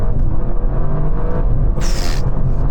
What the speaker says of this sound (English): let's take this new RS6 Performance for a hoon